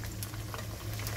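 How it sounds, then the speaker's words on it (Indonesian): Tofu and corn fritters frying in hot oil give a steady, dense bubbling sizzle with soft crackles throughout, close and even in level, with no speech. "goreng dulu sampai satu sisinya matang, baru nanti kita balik"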